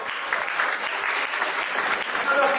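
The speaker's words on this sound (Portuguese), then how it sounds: "Fuerte aplauso para ellos, por favor." Warm applause from an audience at an award ceremony, brisk clapping that carries through the whole moment with some faint voices mixed underneath.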